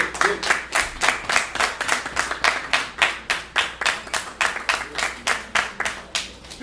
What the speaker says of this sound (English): give Mr. 47 another round of applause, please